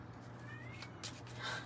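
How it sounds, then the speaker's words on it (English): A house cat gives a brief, faint meow, a thin rising-and-falling cry over a low steady background hum, ending with a soft second call. "Cat's meowing."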